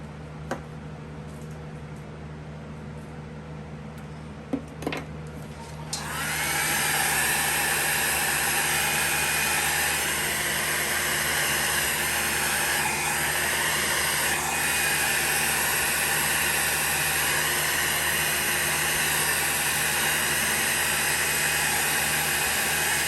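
A heat tool switches on after a few quiet seconds with faint clicks, then blows a steady, loud hiss of hot air over alcohol ink art, continuing unbroken to the end.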